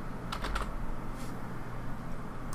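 Quick light keystrokes on a computer keyboard, a short cluster of taps followed by a few more, close and quiet over faint room hum.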